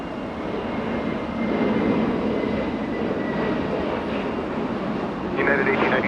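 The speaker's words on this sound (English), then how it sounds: "Spirit Airlines, there we go, getting a move on and hiding behind the clouds." A Spirit Airlines jet takes off at Los Angeles International Airport, a steady broad engine roar at moderate distance holding level throughout and rising slightly near the end, with a voice talking over it.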